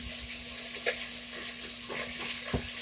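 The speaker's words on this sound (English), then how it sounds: "I'm sure you can hear that sizzling," Pork sizzles steadily in a hot frying pan, with a constant crackling hiss and occasional soft pops and clinks throughout.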